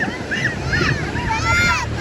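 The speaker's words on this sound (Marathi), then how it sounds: "लाटा वगैरे किती येतात" Surf washes in steadily at Alibag beach beneath gusty wind noise, with people talking nearby over the rolling water.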